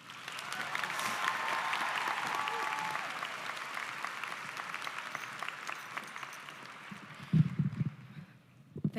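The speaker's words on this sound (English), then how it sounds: "everyone please help me celebrate Miriam's accomplishments and give up a round of applause for Miriam." A graduation audience at a high school commencement applauds Miriam, with many hands clapping in a broad, sustained wash that slowly fades, followed near the end by close microphone handling and a voice starting to speak.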